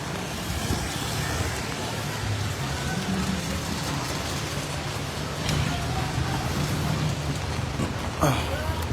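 Heavy rain pours down steadily on downtown Bacolod streets amid rising floodwater, a dense, loud hiss with passing traffic rumbling faintly underneath.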